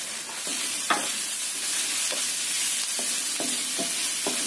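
Carrots and beetroot sizzle in a pan with garlic and shallots, a steady close frying hiss broken by a few spatula scrapes and stirring taps.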